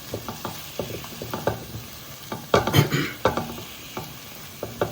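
Masala of chilli, ginger and garlic frying in a pan, with a soft sizzle under repeated sharp scraping and clacking strokes of a stirring spoon, close and fairly loud, no talk.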